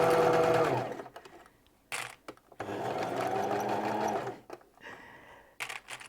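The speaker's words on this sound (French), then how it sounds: "Je couds l'ourlet de mon pyjama." A domestic sewing machine runs through a pyjama hem in two sustained bursts of fast stitching, close and fairly loud, separated by brief pauses and followed by a few short stop-start runs.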